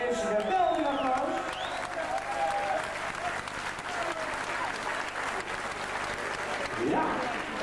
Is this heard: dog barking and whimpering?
no